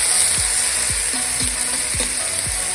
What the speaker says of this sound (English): So let's fry the onion a little bit, then we're gonna add the lamb.